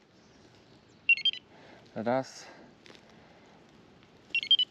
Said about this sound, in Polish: Okay, będziemy przewozić wędki, więc wyłączymy alarmy.